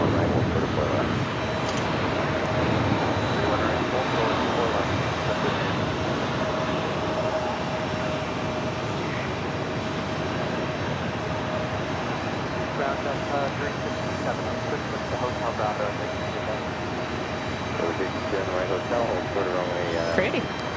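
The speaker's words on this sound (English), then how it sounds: "Etihad A380 Super heading back to Abu Dhabi. Now taking off 4 left." An Etihad Airbus A380 takes off from runway 4 Left at JFK, a steady, broad jet roar holding loud and even for about twenty seconds, with a faint engine whine running through it and voices talking over it.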